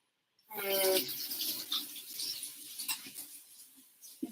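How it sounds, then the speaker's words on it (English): Running tap water splashes over hands at a kitchen sink, starting abruptly and staying steady and close for a few seconds, with a brief clink partway through. "Let me just wash my hands."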